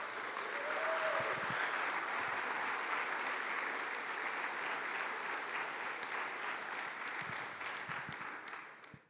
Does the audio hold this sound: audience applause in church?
yes